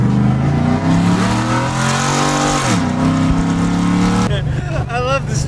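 A Raptor pickup truck pulls away, its engine droning loudly and shifting in pitch as it accelerates, then dropping to a lower idle rumble with a brief burst of fluttering noise near the end.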